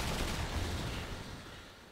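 A sentry gun in Call of Duty: Ghosts fires a fast, loud burst of automatic gunfire in a Domination match, a dense rattling stream that tapers off slightly toward the end.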